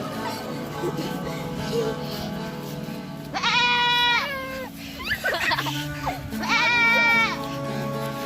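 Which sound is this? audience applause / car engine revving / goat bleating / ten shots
goat bleating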